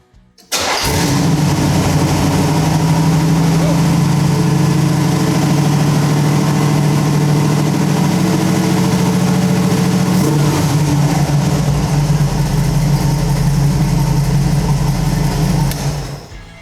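A small block Chevy engine with a newly installed mechanical fuel pump fires up after a brief crank and settles into a loud, steady, close-up idle that holds for about fifteen seconds before cutting off.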